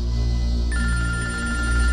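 An electronic telephone ringtone starts partway through and rings on steadily, close and clear over a low background hum, with no talk.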